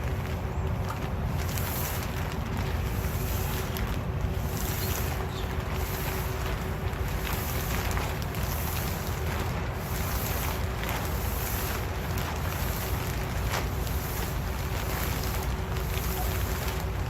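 Gusty wind blowing outdoors, roaring steadily and loudly across the microphone for the whole stretch, with no talk over it.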